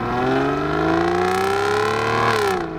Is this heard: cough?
no